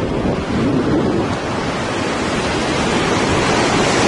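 Surf rolls in continuously at Praia da Reserva in Recreio, Rio de Janeiro, a steady loud wash of breaking waves with wind buffeting the microphone and no voices.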